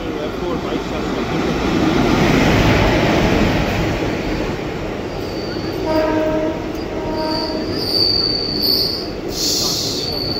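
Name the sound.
Kanchanjunga Express ICF coach running, wheels squealing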